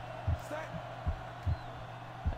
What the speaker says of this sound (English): You can hear the heartbeat.